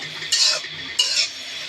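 Carrots frying slowly over low heat as they are stirred in a pan, with two brief scraping strokes of a utensil against the pan over a faint background.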